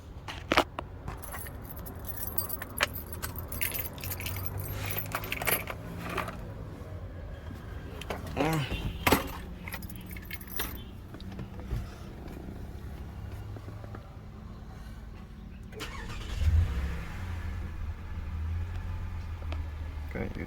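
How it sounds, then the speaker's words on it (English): Keys jangle and rattle as a Lexus RX350 is started, followed by the engine catching and settling into a low, steady idle, with someone talking over parts of it. "I'm gonna go ahead and start up the car."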